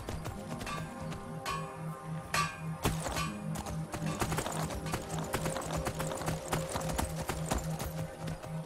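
Steady rhythmic clip-clop of horse hooves at a trot, close and continuous, with game-like ambient music underneath.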